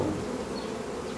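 Honey bees buzz steadily at a hive entrance fitted with an anti-robbing screen, a dense continuous drone close by with no voices.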